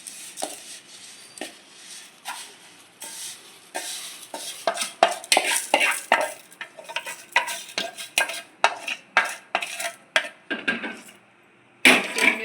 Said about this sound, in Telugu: ఇప్పుడు ఇందులోనే మనము సేమియా వేసుకుందాం